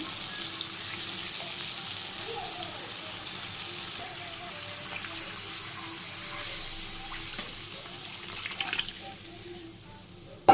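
Lentils tipped into a hot pot with a ladle in a village kitchen, setting off a steady close sizzle and watery hiss that runs throughout, ending with a brief clatter.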